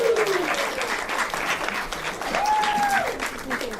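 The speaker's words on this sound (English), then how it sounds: "Let's give her a round of applause." Audience applause at a comedy open mic in a small-town cinema, a steady dense wash of clapping from a crowd, with a voice speaking over it and a rising whistle-like tone near the end.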